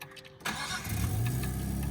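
A Nissan Skyline R34 engine cranks and catches, then settles into a rising, rumbling idle close by, a brief start with a slight rev.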